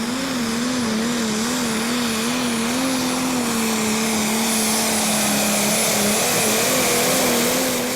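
A Valtra prostock pulling tractor engine roars continuously through a pull run on the track, loud and close, with a sustained wavering tone and no voices.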